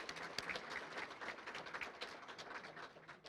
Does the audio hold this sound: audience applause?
yes